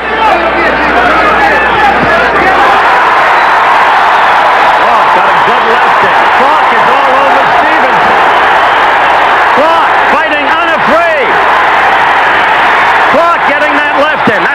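A restless crowd at a 1980 USA vs Cuba amateur boxing bout, loud continuous chatter and babble filling the arena with scattered shouts and whoops, and a commentator talking over the din.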